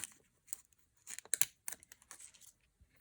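Stickers are peeled off a sheet in quick, light crinkly bursts with small ticks and tears, close and quiet against near silence.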